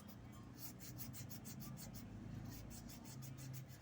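Rhythmic back-and-forth scraping of sandpaper on a jade ring by hand, close up, with regular rasping strokes repeating steadily.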